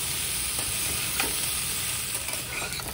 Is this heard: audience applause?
no